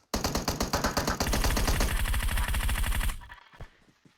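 Automatic rifle fire in PUBG Mobile, a close, loud burst of rapid shots that quickens into a sustained stream for about three seconds, then stops abruptly, leaving a few faint scattered sounds.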